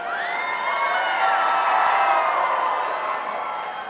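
Students in a lecture class cheer and whoop loudly together, a sustained burst of high excited voices with some clapping mixed in, filling the room for several seconds.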